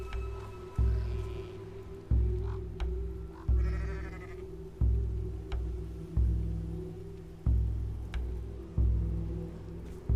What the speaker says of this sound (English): We can see a sheep on its back, seemingly cursed